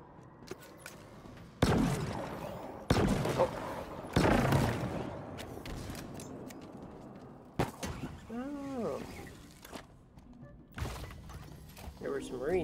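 Shotgun blasts in Halo Infinite co-op on Legendary difficulty: several loud, sharp bursts spaced a second or so apart, mixed with game effects and players talking.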